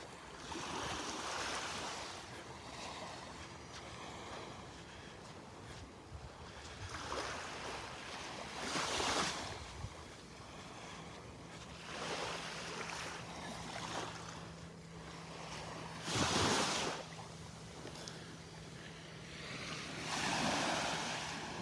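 Gentle surf rolls onto an empty Delnor-Wiggins beach in a steady, soft wash, with a few slightly louder swells breaking now and then and a light breeze over the shore.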